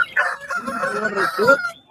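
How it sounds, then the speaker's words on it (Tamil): A rooster crows once, loud and close, a brief hoarse call at a busy Monday livestock market in Kunnathur near Tiruppur. "அதே மாதிரி கையில் ஒரு சேவல் வச்சிருக்காரு"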